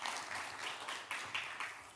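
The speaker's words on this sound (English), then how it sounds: "We have a round of applause for Maxime, please" Small audience at a livestreamed technical talk clapping for a speaker, brief scattered applause with soft rhythmic claps, fairly faint and distant.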